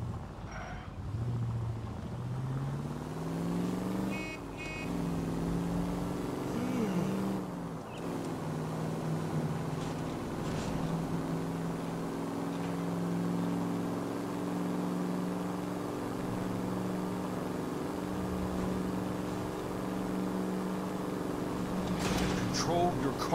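A car drives in the L.A. Noire video game, its engine a steady, fairly loud drone that shifts pitch slightly as it travels, with a few sharp clicks and bumps along the way.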